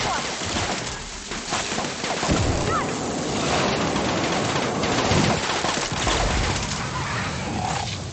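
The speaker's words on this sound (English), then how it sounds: "we can handle these guys pretty well with the flamethrower" Flamethrower fire in The Outer Worlds, a dense continuous roar of broadband hissing noise with crackling bursts, loud and close throughout, with faint speech mixed underneath.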